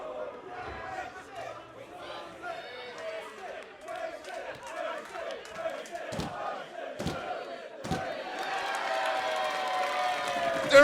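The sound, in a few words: wrestling crowd cheering in video game Grand Theft Auto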